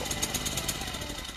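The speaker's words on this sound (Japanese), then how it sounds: "ちょっとエンジンかかりましたね" A small cultivator tiller engine running at a steady, fast chugging idle after starting, close and fairly loud, with no voices over it.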